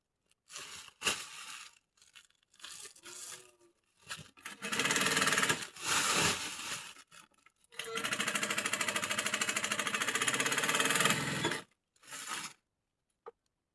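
A sewing machine stitches the folded edges of sacks in close, rattling runs that start and stop, ending in one long continuous burst of fast mechanical chatter.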